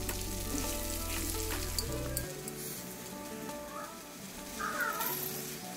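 Potatoes and sliced drumstick pieces frying in an oil-filled pan with a little turmeric, a continuous crackling sizzle with occasional clinks of stirring, close and steady throughout, no talk.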